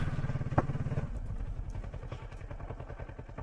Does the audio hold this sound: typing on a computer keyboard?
no